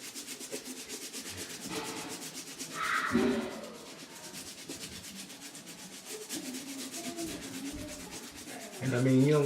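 Soles of Space Jam Air Jordan 11 sneakers are scrubbed clean with basic supplies, making a soft, rhythmic rubbing and scraping that repeats in short strokes at close range, fairly quiet, with a couple of louder bumps.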